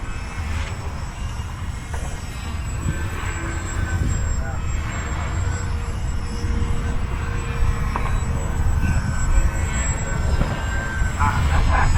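A lightweight foamboard Yak 55 RC 3D plane, about 220 grams, flies outdoors with a steady buzzing propeller drone that rises and falls slightly as it maneuvers, heard continuously at moderate distance.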